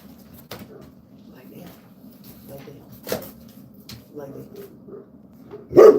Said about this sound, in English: Jasper's barking.